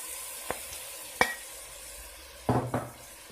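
Onions and tomatoes frying in a pan for a traditional Kabyle wheat-pasta sauce: a faint, steady sizzle broken by a few sharp clinks and scrapes of a utensil stirring against the pan.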